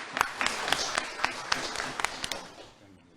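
Sparse audience clapping for a quiz team captain collecting prizes at an award ceremony, a thin scattering of individual claps that slowly tapers off, with room noise underneath.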